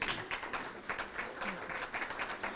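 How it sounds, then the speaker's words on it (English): A graduation audience at a hospital evening ceremony claps in a steady, fairly faint round of applause, with dense overlapping hand claps continuing throughout. "give yourself a round of applause."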